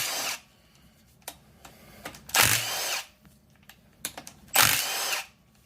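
A power tool spinning out bolts while an LS engine is swapped into a third-generation Chevrolet Camaro, two loud whirring bursts separated by quieter clinks and handling noises nearby.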